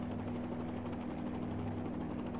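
A helicopter lifting off over an airfield apron in a flight simulator game, a steady droning rotor and engine hum that stays loud and constant, with no voices.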